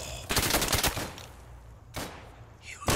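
Gunfire crackles in the Day of Infamy video game: a rapid burst of shots up close, a lull, then a single loud crack and another shot at the end, with brief muffled talk in between.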